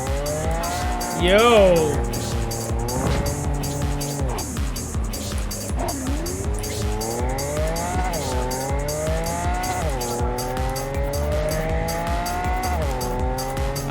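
A car in Cyberpunk 2077 driven wildly, with long wailing tire squeals and a revving engine rising and falling over and over throughout, loud and close, while a voice speaks briefly near the start.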